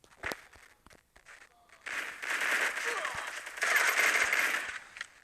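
Gunfire in the shooting game Free Fire, with a sharp early shot, then bursts of rapid automatic fire in two dense stretches, with a faint voice at times.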